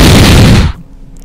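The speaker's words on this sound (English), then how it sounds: "I'm going to make a real explosion sound effect here." A homemade explosion sound effect, a loud close burst of harsh noise that holds for over half a second and then cuts off sharply into near silence.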